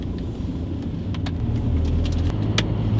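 An Audi A4 heard from inside while driving on the road, with a steady low engine and tyre rumble that swells slightly partway through, plus faint rattles and clicks in the cabin and no talking.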